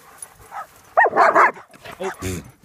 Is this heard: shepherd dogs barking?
yes